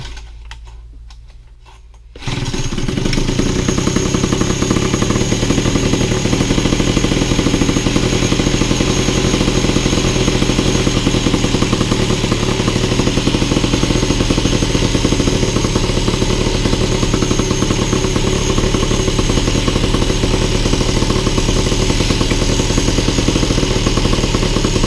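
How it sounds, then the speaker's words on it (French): An MBK 51 moped fitted with a chainsaw pull starter, cold and not run for a while: a short quiet start, then the engine catches after about two seconds and runs steadily, loud and close, to the end. "on essaie de démarrer"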